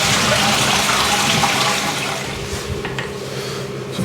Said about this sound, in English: then we'll flush it to empty the cistern.